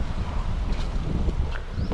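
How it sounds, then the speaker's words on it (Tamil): Strong wind blowing outdoors during a phone unboxing, gusty buffeting rumble across the microphone with faint higher rustles, continuous and fairly loud. "அடிக்கிற காற்றுக்கு எனக்கு தெரிஞ்சு எல்லாமே பறந்துருக்குன்னு நினைக்கிறேன்."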